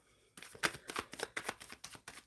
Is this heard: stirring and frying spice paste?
no